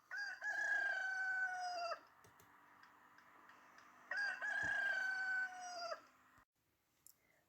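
A rooster crows twice, each crow long and loud with a pause between, followed by a couple of soft clicks in a quiet room.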